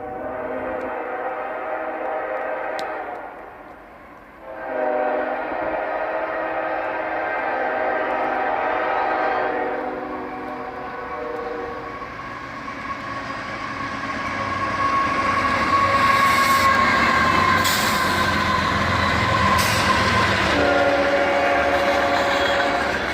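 A southbound freight manifest train passes in heavy snow, its horn sounding loud and sustained in long blasts while wheels and cars rumble and clatter steadily underneath, growing fuller as it goes by.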